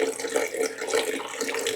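Water runs steadily from a kitchen tap while a hard-boiled egg is peeled under the stream for a loaded ranch potato salad. The sound is a close, even splashing that keeps going through the whole short stretch.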